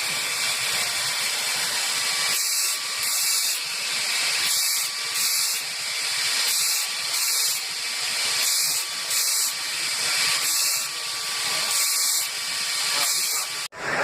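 A Burr King surface grinder runs at full speed grinding Maxamet steel, giving a steady, fairly quiet hiss with a faint whine, broken by regular rhythmic swells as the workpiece passes back and forth under the wheel.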